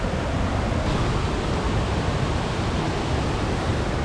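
Thoovanam Waterfalls pours with a constant broadband roar of falling water, steady and loud with no breaks, heard up close.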